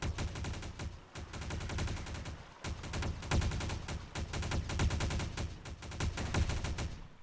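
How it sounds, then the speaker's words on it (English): Rapid guns firing in the game Ark, fast sustained bursts of automatic fire with brief pauses between volleys, fairly loud and steady throughout. "I love the sound of those guns. They sound so mean."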